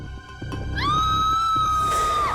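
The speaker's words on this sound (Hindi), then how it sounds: "बच्चे की चीखने की आवाज" A child's high, piercing scream rises and holds loud and sustained over a dim indoor background with a few thumps before it.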